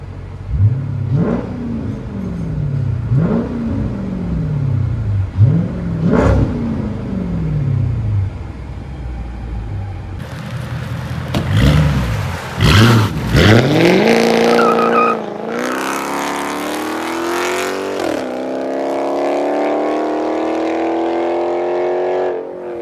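A 2007 Chrysler 300 SRT-8 with a 6.1L HEMI V8 and true dual exhaust on straight pipes, revved in several loud, close blips that rise and fall, then pushed into long sustained high-rev pulls.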